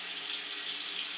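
Tap water runs in a steady, even hiss through old, clogged household pipes carrying iron-rich, rusty-looking city water, close and constant for the whole short stretch.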